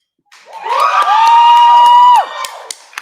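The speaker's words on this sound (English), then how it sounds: "you guys have to cheer really loud if you want to go" A large audience at a public team presentation event cheers loudly in a sustained roar of shouts and whoops, with bright children's voices prominent, swelling for about two seconds before fading into scattered calls.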